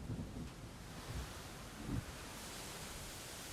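Indie game sound effects layering distant low thunder rumbles, one swelling near the two-second mark, over a constant soft howling wind that mimics ocean surf, faint and without voices.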